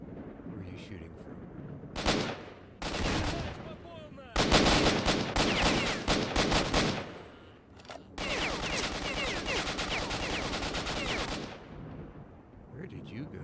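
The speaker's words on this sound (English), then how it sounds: "Where are you shooting from?" Repeated gunfire in the STALKER: Shadow of Chernobyl game, with several loud bursts of rapid automatic shots separated by short pauses, running through most of the stretch and quieting near the end.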